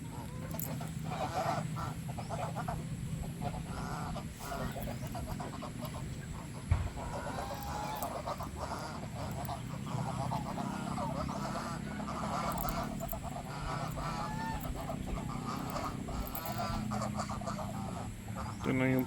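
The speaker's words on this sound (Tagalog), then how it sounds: "Ito na yung pato na lalaki natin." Breeder ducks and other fowl call repeatedly amid a busy, noisy farmyard, with a person talking over the steady background.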